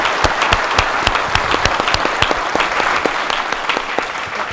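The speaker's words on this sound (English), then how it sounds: "Can we have a big round of applause for our panelists today?" An in-person audience at a housing summit applauds the panelists, a dense, steady round of clapping from many hands filling the room with no talking.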